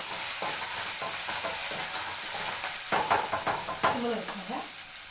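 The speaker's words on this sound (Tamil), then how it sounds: "கடுகு சீரகம் வெந்தயம் நல்லா பொரியணுங்க" Mustard, cumin and fenugreek seeds frying in hot oil in a kadai, a dense steady hiss with sharp popping crackles bursting near the end, close and unaccompanied by talk.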